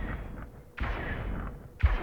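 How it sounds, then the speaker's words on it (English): Missile barrage fire from an enemy heavy cruiser in the VR space combat game BattleGroupVR: two sudden booming blasts about a second apart, each with a rumbling tail, over a steady low hum. "enemy heavy cruiser is engaging missile barrage."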